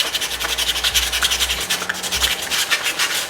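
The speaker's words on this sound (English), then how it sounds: "with the 320 sandpaper I'll pull out this scratch" Steady back-and-forth rubbing of 320-grit sandpaper on chrome trim from a 1970s Mazda RX3, a dense close scratchy hiss that runs continuously with no talk over it.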